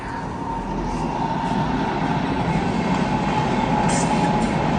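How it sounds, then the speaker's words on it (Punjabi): A train rolls past close by, a steady loud broadband rumble with rail noise and brief high squeals, continuous throughout without talk. "ਟ੍ਰੇਨਾਂ ਬਹੁਤ ਆਉਂਦੀਆਂ ਨਾ ਫੇਰ ਆ ਗਈ"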